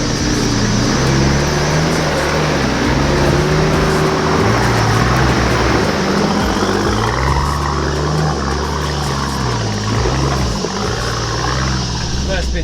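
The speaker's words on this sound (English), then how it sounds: "With a well set up four-wheel drive, you can cruise on up." A four-wheel drive climbing rock steps on a 4WD track near Coffs Harbour: a steady, loud engine drone with shifting revs and broadband rumble throughout, close to the microphone.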